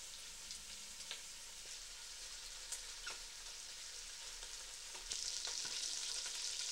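Chicken pieces sizzle steadily on a grill while being turned, a continuous frying hiss with small crackles and pops, growing a little brighter and louder toward the end.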